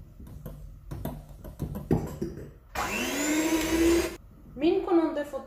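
Electric hand mixer whirring through cake batter at reduced speed as flour is added, a steady loud motor drone for over a second, followed by a shorter burst, with clinks and handling noises before it.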